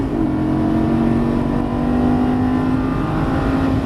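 A Lamborghini Gallardo Superleggera LP570-4 at full throttle on a Las Vegas track straightaway, its engine holding a loud, steady high-revving roar close up for the whole stretch, with no voices over it.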